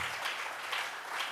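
A church congregation gives a brief round of clapping as an offering to God, a soft, steady wash of applause lasting just over a second.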